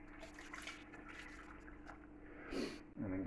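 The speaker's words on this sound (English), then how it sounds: "And then we're just going to put water in" Already-boiled water poured into a pot of whole chicken pilaf with preserved lemons and olives: a short, close splash and gurgle near the end, after a steady hum of kitchen background.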